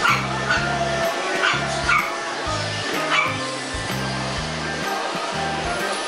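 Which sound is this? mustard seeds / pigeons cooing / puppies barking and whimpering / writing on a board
puppies barking and whimpering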